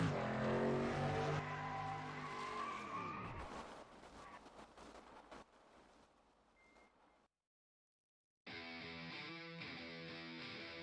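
A race car in a stock car racing game at New Hampshire Motor Speedway does a post-win burnout: a loud revving engine spins down into a hiss of skidding tires, goes quiet for a moment, then resumes with a steady harsh engine tone.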